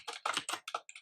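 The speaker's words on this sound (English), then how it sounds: "I'm just going to go ahead and type platform" Quick, close keystrokes on a computer keyboard come in a short run of about six taps with uneven spacing, clicking alone with no talk.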